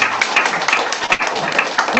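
A church congregation claps together in dense, continuous applause that stays loud and even throughout, with no clear voices standing out.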